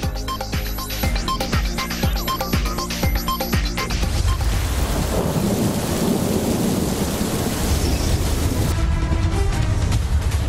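A thunderstorm with torrential rain roars loud and continuous, heavy rain hissing on surfaces under deep rolling thunder, with no voices.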